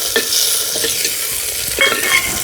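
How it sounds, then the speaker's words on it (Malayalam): Ingredients for a rustic Kerala curry sauté in a pan over a wood-fired stove, with a steady sizzle and a few scraping stirs of a spoon, close and clear with no talk. "ഇതിട്ട് വഴറ്റാം."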